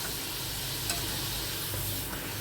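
Papad frying in hot oil in a home kitchen, a constant dense sizzle with soft stirring, steady and close with no talking.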